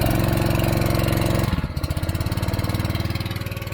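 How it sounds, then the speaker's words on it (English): A Honda engine-driven pump runs steadily at a farm mix station, its close, loud engine droning with a rhythmic pulse that shifts and throttles partway through. "I swapped to a Honda pump"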